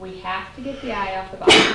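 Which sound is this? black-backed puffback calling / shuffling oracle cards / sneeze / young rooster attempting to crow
sneeze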